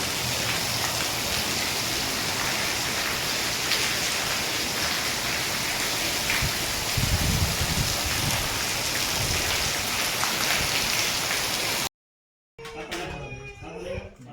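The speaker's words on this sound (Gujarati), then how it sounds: "જોરદાર વરસાદ આવી ગયો છે" Heavy rain roars continuously in a dense, steady wash, briefly cutting out near the end before resuming with a voice under the downpour.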